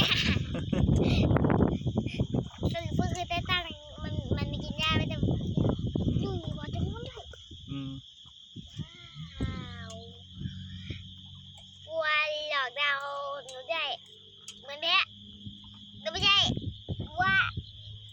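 A young calf bleats several times in short wavering cries, close by, with people talking loudly before and between the calls.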